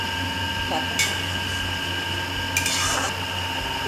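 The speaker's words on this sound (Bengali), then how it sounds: "এবার আমি ঢাকনাটাকে খুলবো" A metal lid comes off a pot of simmering prawn curry with two sharp metallic clanks a moment apart, set against a steady kitchen hum.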